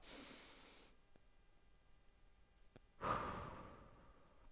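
Slow, audible breaths during a stretching exercise: a long soft exhale fades out, a pause follows, then a louder, nearer breath surges in and trails off, with no talking.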